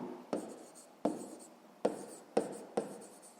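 A pen writes on paper during a fifth-grade maths exercise: five quick, faint scratching strokes, each starting sharply and trailing off, in an otherwise quiet room.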